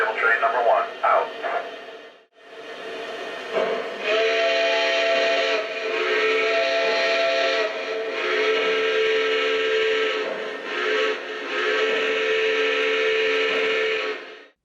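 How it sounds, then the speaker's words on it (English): A custom model steam locomotive sounds a sustained, chord-like whistle that stays loud and steady for most of the span, broken by a few short gaps, with no talk over it. "together we have created this awesome steam locomotive"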